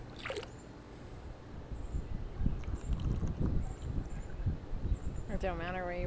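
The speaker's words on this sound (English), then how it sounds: "I'm just going to pour that right in the pool." A measured dose of Pristine Blue pool treatment poured from a cup into a swimming pool, giving a soft, low splashing gurgle under outdoor wind noise, with a brief voice at the end.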